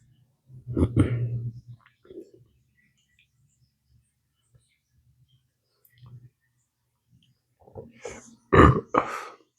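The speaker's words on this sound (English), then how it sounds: "Pepper burp." Burp after eating a hot Apocalypse Scorpion x Chocolate Primotalii chili pepper, a short, sudden belch near the end following quiet breathing and brief talk earlier.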